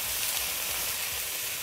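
Chow mein noodles fry in a wok with soy sauce, making a quiet, even sizzle with soft stirring scrapes underneath and no talking.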